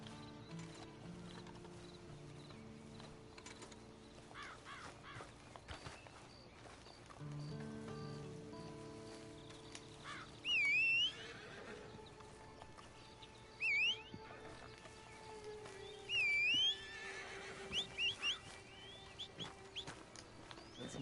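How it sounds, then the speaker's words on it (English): Hoofbeats of a horse in the video game Red Dead Redemption 2, a few clip-clop steps against a game soundscape of chickens, birds and light rain, with bursts of bright whistling calls. "And you better get on this horse"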